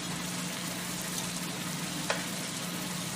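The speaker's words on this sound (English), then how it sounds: "we're letting this sauce continue to cook down a little bit." Hot shrimp sauce simmers and cooks down in a pan, giving a soft, continuous sizzle and bubbling that stays quiet and even, with one brief louder pop near the end.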